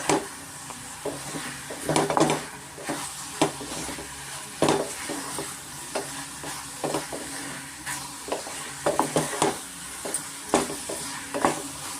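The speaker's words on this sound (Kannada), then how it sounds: "ಮೀಡಿಯಮ್ ಫ್ಲೇಮಲ್ಲೇ ಸ್ವಲ್ಪ ನಾವು ಇದನ್ನು ಫ್ರೈ ಮಾಡ್ಕೊಬೇಕಾಗುತ್ತೆ" Chicken sukka fries with sukka powder in a pan over a medium flame, a steady sizzle punctuated by repeated scrapes and knocks of a stirring spoon at an uneven rhythm.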